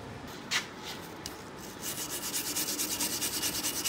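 Steady rhythmic rubbing of refractory coating off a metal drill bit, a scratchy back-and-forth scraping, repeating quickly and close up with no talking.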